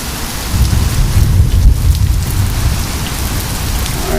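Heavy rain pours down steadily during a derecho thunderstorm in St. Louis, a loud continuous hiss of drops hitting surfaces with a low rumbling undertone throughout.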